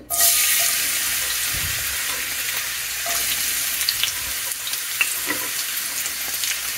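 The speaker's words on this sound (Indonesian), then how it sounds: "Goreng-goreng bawang putih." Garlic frying in a pan, a loud continuous sizzle that starts abruptly and holds steady with a few crackling pops.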